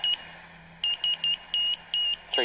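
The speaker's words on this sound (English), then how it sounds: "that is how the beep goes 3 times" A Raspberry Pi buzzer beeps Morse code SOS in a short-short-short, long-long-long, short pattern of high electronic tones, close and clear against a quiet background.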